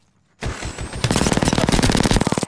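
Gunfire in Black Ops 3: after a brief quiet start, loud shots erupt, then a fast, continuous burst of close automatic fire rattles on to the end.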